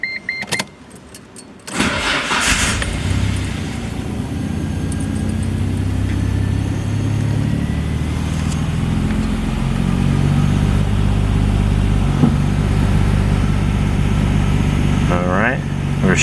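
A Nissan RB26 engine cranks and starts about two seconds in, then settles into a steady, loud idle with a throaty low rumble that continues to the end, with a brief rev near the close.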